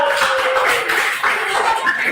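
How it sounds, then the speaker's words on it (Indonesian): A class applauds a student group after their presentation: a burst of close clapping from many hands, with scattered chuckles and voices in the room. "Tepuk tangan untuk kelompok 2."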